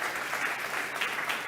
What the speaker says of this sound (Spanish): Escucha este aplauso de compensación.